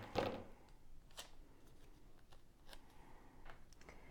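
Scissors trim pieces off a Happy Planner ornament craft, giving a few sharp, faint snips spaced about a second apart over a very quiet background.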